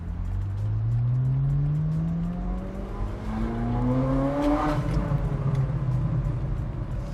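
A widebody Ferrari 458 fitted with an ARMYTRIX exhaust drives through a tunnel, its engine note rising and falling through several loud revving pulls that sweep upward in pitch, close and dominant with no voices.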